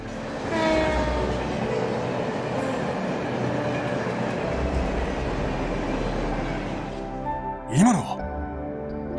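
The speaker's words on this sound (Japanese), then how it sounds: "多分共和国方面の最終列車ってところじゃない？" A passenger train rumbles past at night in the JRPG Trails from Zero, a loud steady rolling clatter with a brief horn-like tone near the end, while voices talk over it.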